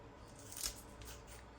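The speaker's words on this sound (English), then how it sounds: "If you don't have kitchen shears, if you don't have your kitchen shears, kitchen scissors, then just do this with a knife." Kitchen scissors snip once through thin slices of food in a quiet kitchen, a short crisp cut over faint background noise.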